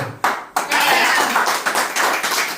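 Relatives clap together at an aunt's 60th birthday party at home, a dense, fairly loud patter of hand claps after a couple of sharp opening claps, with little talk.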